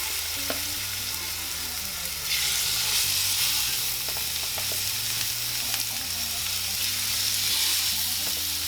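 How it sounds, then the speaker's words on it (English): Salt-and-pepper seasoned salmon sizzles steadily in a hot skillet, a loud continuous hiss that swells a few seconds in, with faint low hum and occasional small pops beneath. "Skillet should be hot enough. We're going to go in with our salmon."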